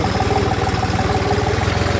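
A tractor engine idles in a paddy field with a low, even chugging throb, close and continuous throughout.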